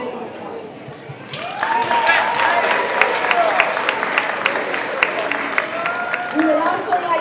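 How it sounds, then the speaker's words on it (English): An audience at a high school honor roll assembly applauds steadily after a short quiet lead-in, with a busy wash of clapping and some voices murmuring underneath. "we would like to give you a hand of applause"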